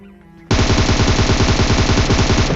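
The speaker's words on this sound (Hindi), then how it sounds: "मैंने डीपी से थोड़ा सा प्री फायर देने की कोशिश करी" A DP machine gun in a PUBG-style shooter opens up after a quiet half-second, then fires one loud, continuous, rapid burst to the end.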